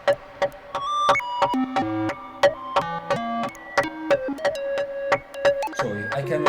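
A modular synth sequence from an ER-101 sequencer, plucky tones stepping through pitches with random, uneven note lengths, bright and busy, with no voices.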